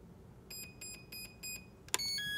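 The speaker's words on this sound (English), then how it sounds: "Four beeps, I'm going to pull and hold." Four short electronic beeps from the ESC of a Proboat Zelos 36 RC boat during programming in a steady rhythm, followed by a brief sharp click and a higher two-tone chirp, fairly faint with no talking.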